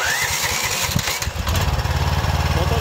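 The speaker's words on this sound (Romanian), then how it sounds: "Motorul s-a înnecat un pic pentru că am dat la automat fără scânteie." A slightly flooded mini tractor engine cranks unevenly for about a second and a half, then catches and settles into a steady, close, loud running rhythm.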